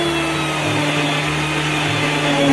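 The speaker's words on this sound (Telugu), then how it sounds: "ఇప్పుడు ఇది మెత్తగా మిక్సీ వేసుకుందాం." A kitchen mixer grinder whirs loudly and steadily as it blends sapota fruit with milk into juice, a close, continuous motor drone with no talking.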